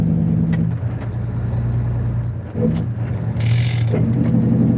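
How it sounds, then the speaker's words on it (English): Truck on a snowy winter highway south of the twin cities, its gearbox grinding during a shift over a loud, steady engine drone and road rumble, with a brief harsh grating burst partway through. "Grinding gear while I'm at it."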